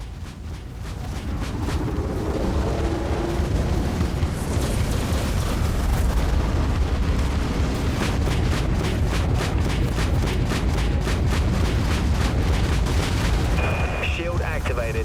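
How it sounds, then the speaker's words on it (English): A spaceship's broadside weapons fire continuously in a dense, loud barrage of rapid booming shots and blasts. Voices speak faintly beneath the din. "Swapping to primary weapons, Captain. Broadside's locked."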